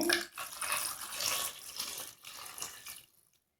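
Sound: water poured into pot of brinjals for cooking

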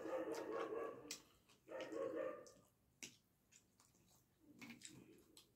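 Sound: dog barking outside

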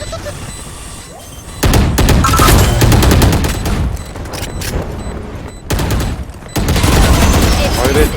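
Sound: gunfire in the video game Valorant

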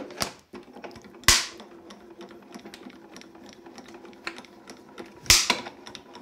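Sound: cracking of plates run through a die-cutting machine

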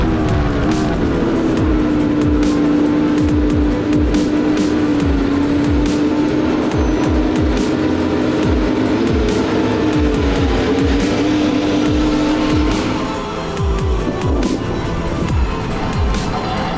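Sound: Aston Martin F1 car driving out and in

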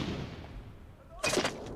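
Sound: gunfire in a video game

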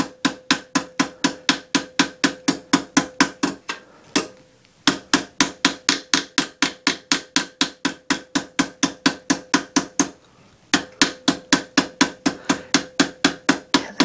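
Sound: hammering metal leaf edge over a stake

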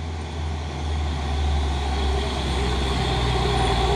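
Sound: Hino truck driving past

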